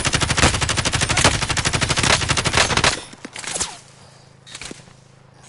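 Rapid automatic gunfire from a video game rattles in a fast, steady burst for about three seconds, then cuts off, leaving a few scattered single shots and quieter background noise.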